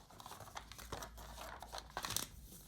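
Paper being creased and folded into an origami Golden Snitch, giving close, quiet crinkles and short crackles in bursts, with a sharper rustle near the end.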